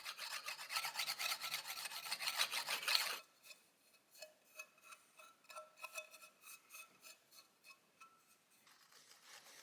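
A steel burnisher rolls around the curved edges of a gooseneck card scraper, giving a close, dense rasping scrape for about three seconds, then lighter intermittent ticks and rubs as the tool works the remaining edges, with a brief rasp returning at the end.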